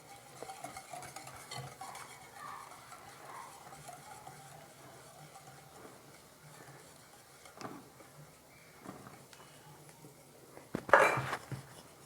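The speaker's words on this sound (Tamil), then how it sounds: "கட்டிகள் விழாமல் ஒரே பக்கமாக கலந்து எடுத்துக்கணும்." Cake batter of flour and milk stirred in a bowl for an eggless, no-oven cake, a soft, steady scraping and swishing close by, quiet throughout with a brief louder clink of utensil against the bowl near the end.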